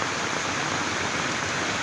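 Heavy monsoon rain falls steadily outside a house in a Konkan village, a dense, even hiss with no pauses and no voices.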